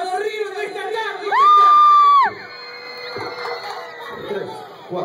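River Plate football fans at a festival event shout and cheer as a large crowd, with a loud sustained high yell rising above the mixed chatter and whoops.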